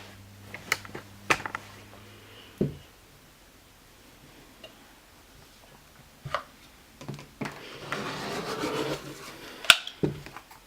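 Fabric strips are cut along a ruler for a spring table runner, producing a few sharp clicks and taps followed by a soft, rasping rub of the cut, set against quiet room sound.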